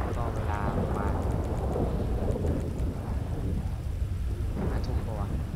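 Heavy rain pours steadily during a thunderstorm in GTA V, with low rolling thunder rumbling underneath throughout, loud and close.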